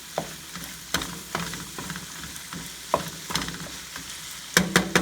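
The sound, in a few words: stirring frying empanada filling in pan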